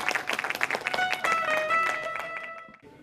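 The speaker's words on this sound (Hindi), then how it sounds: "एक बार ज़ोरदार तालियां" An audience at an Urdu Press Club International gathering claps to welcome a performer: a burst of dense clapping for about a second, then fading under a sustained musical tone.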